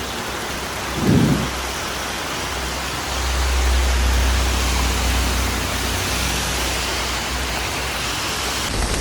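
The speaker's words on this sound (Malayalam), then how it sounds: "ഭയങ്കരമായിട്ട് കിടിലം മഴ." Heavy monsoon rain in Kerala pours as a steady, dense roar, with a brief rumble of thunder early on and a deeper low rumble swelling midway under the constant downpour.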